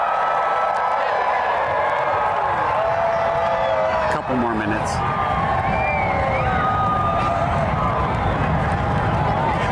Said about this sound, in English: the crowds are going nuts here in Carbondale at SIU at Saluki Stadium